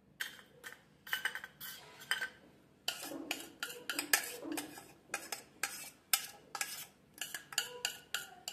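Dalgona coffee, a whipped sugar and coffee mixture, is spooned into a glass, giving repeated clinks and scrapes of a metal spoon against glass in quick irregular bursts with short pauses.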